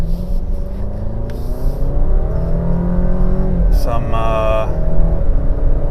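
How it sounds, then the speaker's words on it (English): A 2018 Alfa Romeo Giulia TI turbo engine accelerates toward highway speed, a steady low rumble with rising tones heard from inside the cabin, while a person speaks over it. "That turbo engine was smooth. It was not too noisy"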